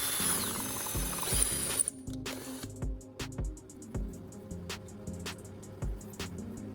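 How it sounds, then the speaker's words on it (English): A drill bores a small hole through the side of a stainless steel bowl, with an initial burst of whining grind followed by a series of short, clicking mechanical bursts and taps up close. "In the next step, I drill a small hole in the side of the stainless steel"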